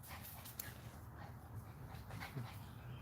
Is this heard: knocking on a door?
no